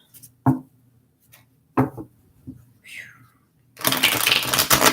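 Tarot cards are shuffled close up in short, sharp riffles and taps, a few separate bursts followed by a longer, louder flutter of cards.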